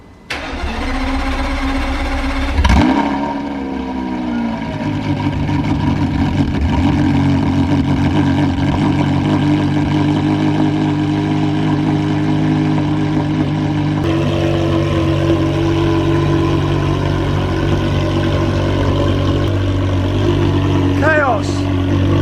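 A Porsche Carrera GT engine, sitting unused for seven months, cranks briefly and catches, then settles into a loud, steady idle that runs continuously with a slight rise partway through, close up.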